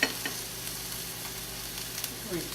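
Tuna steak fillets searing in a hot pan, a steady broadband sizzle with soft crackles and a brief stir near the end.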